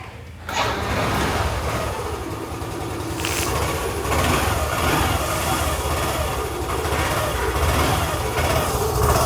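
A Yamaha Fascino BS4 scooter engine runs steadily just after a cold start, fitted with a new air filter, a close, continuous idle that starts abruptly and holds an even, buzzing drone throughout.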